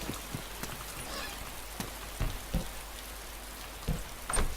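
Steady soft rainfall in the survival game DayZ, a faint even hiss with scattered droplet taps and a few louder patters, no voices.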